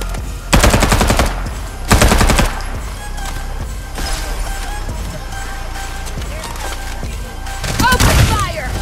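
Heavy automatic gunfire from a gunship in the Farlight 84 shooter game, two loud rapid bursts early on, then quieter game effects and a faint voice, ending with another burst of shots.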